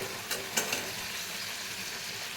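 Spice paste bubbles gently in oil in a pan, a soft steady sizzle with a few light scraping stirs early on, quiet and close.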